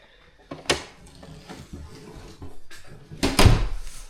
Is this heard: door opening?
yes